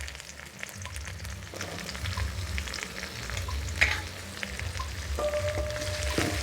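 Green chilies go into hot oil with curry leaves and rampe pieces for a chicken curry tempering; a continuous crackling sizzle carries a few sharp pops and clicks, near and moderate, with no voices.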